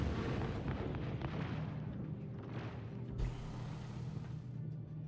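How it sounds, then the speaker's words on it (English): An explosion in the video game Star Citizen rumbles as a heavy, sustained low boom with a dull thump partway through, steady and fairly quiet with no voices. "Oh, there's our explosion."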